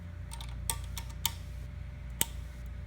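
A Singer Featherweight 221 sewing machine bobbin case snaps into place with a few small, sharp clicks and one distinct final snap, close and fairly quiet over a steady low hum.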